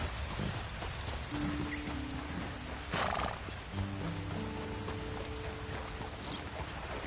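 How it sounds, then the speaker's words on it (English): A horse whinnies, a nearby neigh rising over light patter like rain, with a few soft hoof clops and a longer, tonal whinny stretching through the second half. "That looks like a pretty nice horse you got there."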